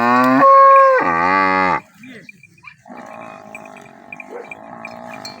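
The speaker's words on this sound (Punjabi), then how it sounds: "ਗਾਂ ਵਿਚਾਰੀ ਜਿਹੜੀ ਨਾ ਆਵਾਜ਼ਾਂ ਲਾ ਰਹੀ ਹੈ" A cow moos loudly twice in long, drawn-out calls close by during flooding from the Ravi river, followed by quieter background murmuring and faint rustling.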